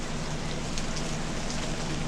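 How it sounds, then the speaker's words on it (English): Steady rain falls on and off in an outdoor setting, a continuous dense hiss of drops on surfaces, fairly loud and unbroken, with no voices. "But it's been raining off and on all day."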